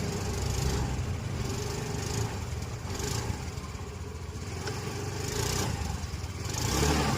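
Scooter engine running and revved steadily to free a stuck rear wheel nut, a loud continuous mid-pitched motor drone with slight surges, no talking.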